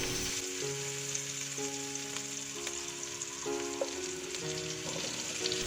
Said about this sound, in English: Now we add the cauliflower.